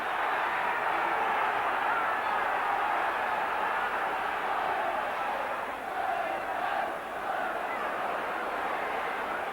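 A packed Roker Park football crowd from the early 1980s sends up a broad, sustained roar, a steady distant wall of massed voices that swells and dips slightly.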